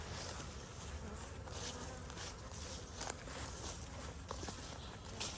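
Honeybees buzzing around hive frames, a steady, faint swarm hum with soft rustles and small taps mixed in.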